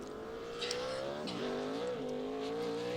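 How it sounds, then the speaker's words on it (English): A NASCAR stock car runs a qualifying lap at Kentucky Speedway, its engine a loud, steady high-pitched roar that dips briefly around a gear change or corner and then climbs again, with no voices. "The 9th car to roll on the track in qualifying, Michael McDowell."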